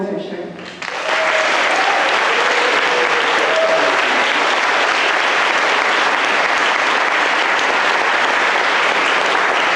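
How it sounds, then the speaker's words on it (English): A keynote audience bursts into warm applause after a brief lead-in, then holds a loud, continuous roar of clapping from many hands for the rest of the stretch. "Please give a warm round of applause for Eric Goldfisher."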